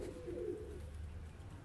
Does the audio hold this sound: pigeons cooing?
yes